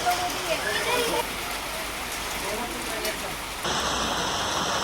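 Rain pouring near a roadside tea shop about 10 km from Ooty, a steady dense hiss of falling water with voices talking faintly underneath.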